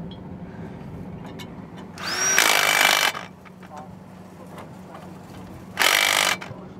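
Massey Harris 21 self-propelled combine idling with a low mechanical hum, broken by two loud bursts of grinding and clattering metal as the gears shift from low to high speed, the first about a second long and the second shorter.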